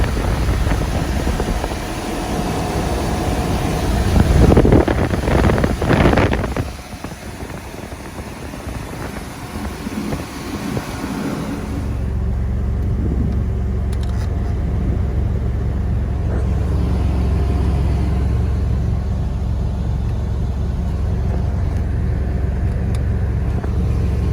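A Chevrolet S10 pickup's 4.3 engine idles and warms up after a thermostat fix, a steady low rumble running throughout with a louder burst of revving or handling noise early on before settling into an even drone.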